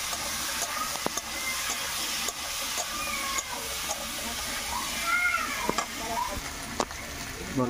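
Tilapia fish curry being stirred in a pan with a little turmeric, a soft sizzling fry with scraping stirs and clinks of the spoon against the pan, steady and close with no talk.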